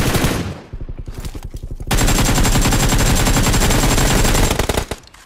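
Loud automatic gunfire in the mobile shooter game BGMI (PUBG): a short burst, a brief pause, then a long unbroken rapid-fire stream that cuts off near the end.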